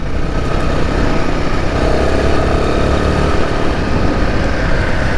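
Loud, continuous engine roar of a Royal Enfield Himalayan 450 motorcycle riding on rough UK trails, close and steady with wind noise throughout, no talk.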